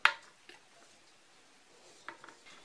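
Glass jars filled with pork tongue brawn are set one by one onto gauze lining the bottom of a cooking pot, giving a few faint, brief clinks spread apart against a quiet background.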